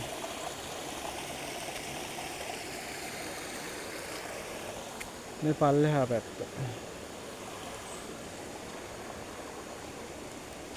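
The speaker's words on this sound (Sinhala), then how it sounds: "මේ වැස්ස වැඩි කාලෙට මේ බන්ට් එක උඩින් වතුර යන" Water rushes over a bund in the Kalu Dola stream near Pitigala as a steady, broad hiss of flowing water, with someone speaking briefly partway through.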